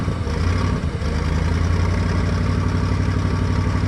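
Computer-controlled engine running on propane with the throttle held partly open, a steady, loud, even mechanical drone with a rough clattery texture that continues without break.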